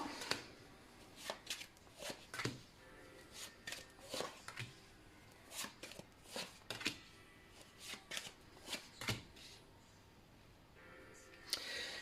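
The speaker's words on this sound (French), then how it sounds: "Allez, je rajoute les cartes du bas." Tarot cards are laid out one by one on a surface: a dozen or so crisp, papery flicks and soft slaps arrive at irregular intervals, close and fairly clear, with only a faint hint of a voice.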